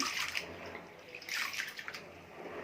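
Soaked lentils are washed by hand in a pot of water, giving continuous close sloshing and swishing with brief splashy surges and no voices.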